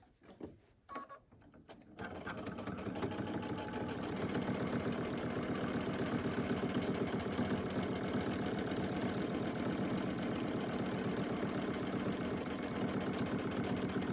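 A sewing machine runs a steady, fast, even stitching hum while quilting with bobbin thread, close and continuous after a few brief starting taps.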